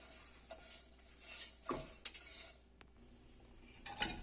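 Vermicelli roasting in a pan for semiya kesari, stirred with a metal spoon that gives soft scraping and a few light clinks against the pan, quiet and close, with no talking.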